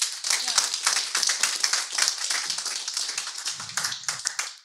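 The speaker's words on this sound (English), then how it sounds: "Let's please applaud again on launching this." An audience at the Geneva launch of a climate security observatory claps steadily for several seconds, a scattered round of applause with a brief voice near the end.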